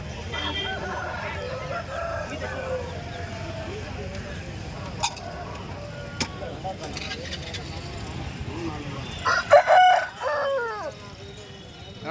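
People talk over outdoor background noise at a sale of game roosters, then a game rooster gives one loud crow near the end.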